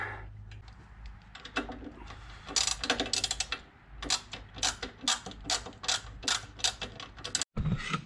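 A ratchet clicks in quick bursts while tightening a nut on an engine guard being installed on a 2020 Harley-Davidson Heritage FLHC, close and crisp, with short pauses between runs of rapid clicks.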